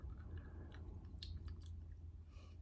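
Chewing on a hard cinnamon boiled sweet, close and faint, with a few crunchy bites and squishy mouth sounds over a low steady hum.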